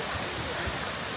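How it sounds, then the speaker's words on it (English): Rushing water at Kuang Si Waterfall in Laos, a steady broadband roar that fills the short stretch evenly at moderate level with no clear breaks. "at the Kuang Si Waterfall."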